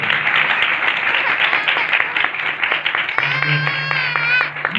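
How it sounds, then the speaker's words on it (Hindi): Audience at a Sunday church meeting gives a loud, dense round of clapping that runs steadily throughout, with a voice and sustained tonal sound rising over it in the second half. "मैं चाहता हूँ जोरदार ताली अपने लिए।"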